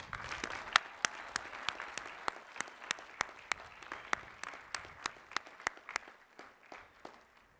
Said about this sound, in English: Please recognize the Bachelor of Science degree recipients with our applause.